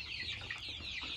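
Hybrid laying hens of cross breeds clucking nearby, a few short overlapping calls in quick succession over a quiet barn background.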